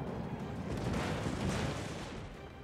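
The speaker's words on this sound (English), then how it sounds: "Guess there's no reason I shouldn't just shoot him now" In the naval combat game World of Warships, a heavy ship's gun salvo rumbles out as a broad, sustained boom that swells and slowly fades, loud and dense with no speech over it.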